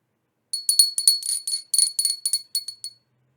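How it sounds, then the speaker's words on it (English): A small hand bell rings rapidly and brightly, about a dozen quick tinkling strikes over two and a half seconds. It is close and clear with no talk, and struck during a card-reading session. "Let me get positioned so I can ring the bell."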